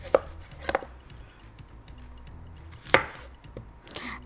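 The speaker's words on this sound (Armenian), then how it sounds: "Այս խնձորն էլ նույն ցևով կտրատում ենք այս մասերը ու շերդերի վերածենք" Knife cutting an apple into strips on a board gives a few sharp, close chops, irregularly spaced with short pauses between, over quiet kitchen background.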